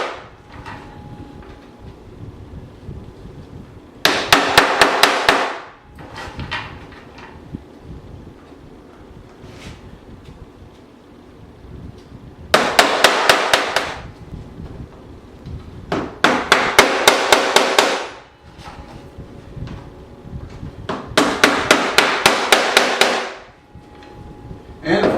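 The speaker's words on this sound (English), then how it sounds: "And once again, hammer them on." Planting guides hammered into a square foot garden grid: four bursts of rapid, sharp strikes separated by quieter gaps with light handling and wind noise, loud and close.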